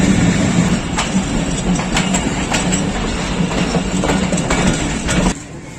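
The 46 Down Pakistan Express pulls into Dina station with a loud, steady rumble and a regular clickety-clack of wheels, then drops abruptly quieter near the end.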